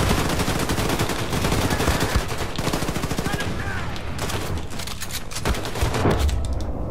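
Rapid, relentless gunfire in the shooter game Wolfenstein: The New Colossus, a loud close string of shots fired in quick bursts with barely a pause across the whole stretch.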